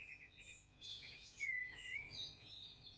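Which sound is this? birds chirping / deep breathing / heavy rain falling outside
birds chirping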